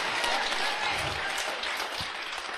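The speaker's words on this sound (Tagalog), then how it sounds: "Palakpak ka na Jesus." A congregation at an Ilocano preaching service applauds for Jesus, a dense, continuous patter of clapping filling the room at steady volume throughout.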